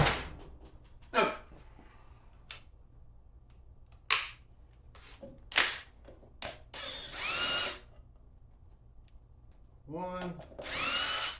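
An impact driver backs out 5mm Allen head bolts on a mini bike, giving several short loud hammering bursts scattered between pauses, close up, with a man briefly counting aloud.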